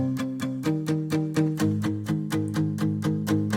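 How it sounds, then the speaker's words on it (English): Acoustic guitars chug a steady rhythm part for the verses of a pop country track, even palm-muted strums in a driving eighth-note pulse, close and alone. "So I went ahead and added these acoustic guitars"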